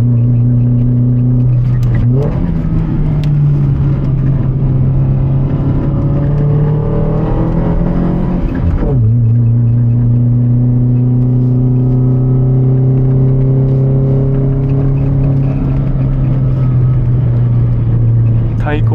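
A naturally aspirated car engine pulls loudly and steadily on a downhill mountain pass road at dusk, its note climbing and then dropping sharply at two gear shifts.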